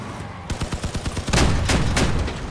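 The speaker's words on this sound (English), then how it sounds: "What's up, four machine guns?" Machine guns on a combat vehicle in the game Crossout fire a steady rhythmic stream of about a dozen shots, then heavier overlapping bursts and booming impacts take over, loud and close with no voices.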